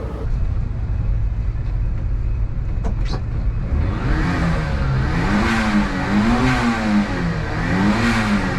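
A Daihatsu Mira drives through heavy traffic in the rain, its engine making a steady, close drone inside the car, with a wavering tone rising above the road noise partway through.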